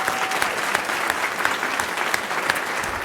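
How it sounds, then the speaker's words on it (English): Steady audience applause at a Fayetteville city council meeting, a dense patter of many hands clapping at an even level with no talk over it. "Let's give Ms. Abbott a round of applause."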